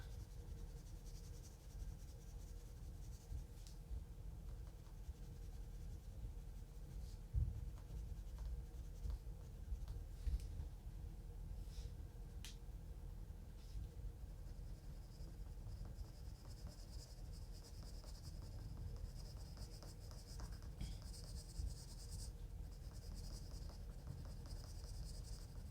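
Colored pencil strokes scratching steadily across paper in a continuous, close, soft scribbling texture with a faint background hiss, no one talking.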